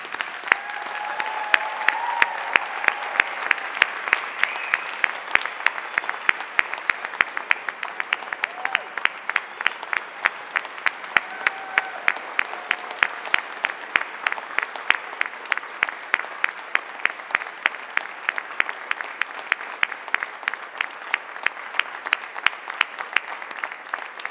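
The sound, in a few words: graduation audience applauding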